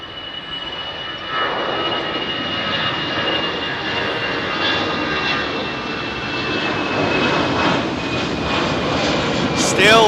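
A Eurowings jet airliner departs London Heathrow's runway 27R, its engines a loud, steady roar that swells slightly as it climbs away, with a person talking over it.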